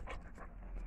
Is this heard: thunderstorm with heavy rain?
no